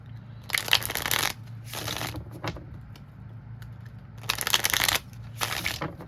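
Several bursts of tarot cards being shuffled, crisp riffling rustles in two main clusters separated by quieter pauses, close up with a low steady hum underneath.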